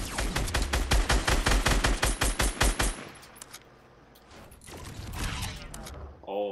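Fortnite Battle Royale gunfire: a rapid, evenly spaced burst of about fifteen loud automatic shots for three seconds, then quieter game sounds and a few scattered noises, with a voice talking briefly.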